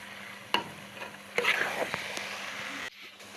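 Carrot halwa (gajar ka halwa) roasting in a pan while being stirred, a soft steady sizzle broken by sharp scraping strokes of a spoon, close and moderate in loudness, with no talking.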